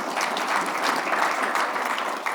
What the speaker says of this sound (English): Give Rich a round of applause again,